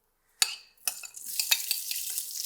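Onions and chili hit a hot pan with a sudden sizzle, then stirring and scraping over a continuous crackling fry, close and fairly loud.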